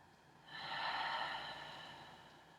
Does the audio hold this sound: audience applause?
no